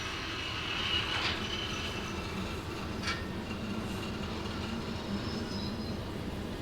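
Train of boxcars rolling under light throttle in the VR railway game Derail Valley, a steady rumble with faint wheel clatter and a few brief squeals, close and continuous.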